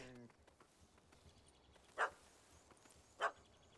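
Two short, sharp dog barks from a puppy in The Witcher 3, spaced about a second apart over quiet game ambience, with light background voices.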